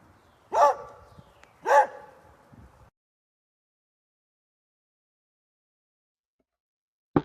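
A dog barks twice in quick succession, loud and close, after which there is near silence apart from a soft thump at the very end.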